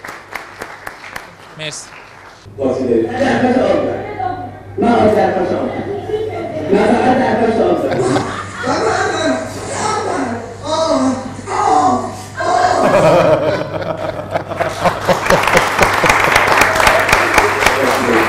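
A studio audience claps for a live performance of a song on a television comedy show. Bursts of applause mixed with chuckles and chatter rise and fall, and a host's voice speaks between and over them.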